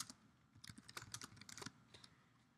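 Quiet, close typing on a computer keyboard, with irregular bursts of key clicks over about two and a half seconds and no talk.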